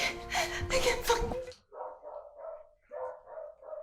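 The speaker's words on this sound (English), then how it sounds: "Hear the dog?" A dog in a TV drama episode barks about five times in two short groups at moderate distance, after a loud, dense burst of other sound.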